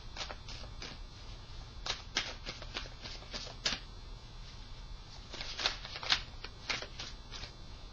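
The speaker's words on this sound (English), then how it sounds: "Bear with me while I take and shuffle the cards for you." A deck of cards is shuffled in several quick riffling bursts, crisp and close, with short pauses between them and no talking.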